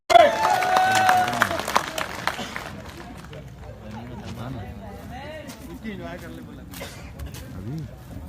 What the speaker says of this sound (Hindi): दोनों हाथ ऊपर उठाइए, ताली बजा के बुलाइए